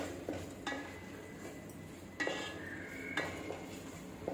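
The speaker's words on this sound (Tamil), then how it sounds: "நல்லா வதக்கிக்கலாம்." Masala for a Kaanagathai fish curry is sautéed in a pan. A steady low sizzle runs throughout, broken by several sharp spatula clinks and scrapes against the metal, close and moderately loud.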